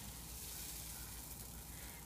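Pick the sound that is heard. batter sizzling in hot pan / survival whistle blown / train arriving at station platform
batter sizzling in hot pan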